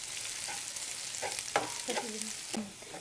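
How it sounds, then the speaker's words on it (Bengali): Onion and garlic fry in a pan until crisp and golden, giving a steady close sizzle with a few soft stirring scrapes and clinks, and no voices. "এই পেঁয়াজ রসুনটাকে একদম বেরেস্তা করে ভেজে নিতে হবে"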